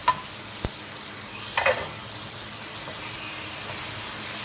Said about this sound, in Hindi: टमाटर के गलने तक इसको फ्राई करेंगे